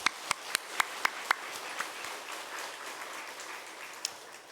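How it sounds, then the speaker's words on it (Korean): Church congregation during a Sunday service gives a round of applause: several sharp, loud individual claps at the start, then a softer, fading patter of scattered clapping. "그런 마음으로 박수 한번 합시다."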